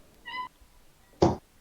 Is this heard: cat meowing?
yes